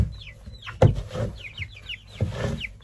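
Backyard chickens cluck close by in short chirping bursts, with a sharp knock or bang partway through and another thud near the end, with no talk.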